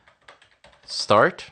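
Quick typing on a computer keyboard during Linux setup for an Angular project, soft scattered clicks under someone talking, ending in a louder burst of voice.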